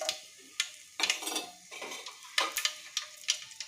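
Garlic dropped into hot oil already holding mustard seeds and cumin, making irregular crackling and spattering bursts with light clinks of a spoon or pan, close by and with no voice.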